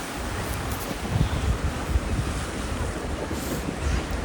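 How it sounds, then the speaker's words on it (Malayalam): Strong wind roars across an open microphone by the sea at Kanyakumari with rushing surf beneath, a steady loud blustery noise with gusts swelling now and then. "നല്ല രീതിക്ക് കാറ്റും കൂടി തുടങ്ങി."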